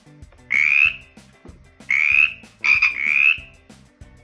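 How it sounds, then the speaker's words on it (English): A cartoon frog croaks in a children's letter-learning animation. Three or four loud, bright, rising croaks come at irregular intervals over soft plucked background music. "Felix the Frog is going to jump near the next"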